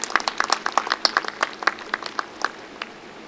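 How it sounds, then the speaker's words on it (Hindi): Scattered, fairly light clapping from a small crowd cheering on women players at a CRPF sports event, with individual claps distinct and irregular throughout. "जोरदार तालियों से इन महिलाओं का हौसला अफजाई करते रहें।"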